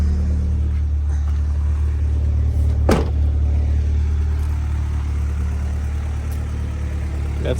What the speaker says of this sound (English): got it idling pretty good now